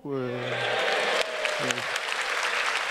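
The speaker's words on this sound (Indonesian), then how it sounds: "Ada yang tepuk tangan" Stand-up comedy audience breaking into clapping and cheering, a broad roar of applause rising under a voice talking at the start and again briefly mid-way.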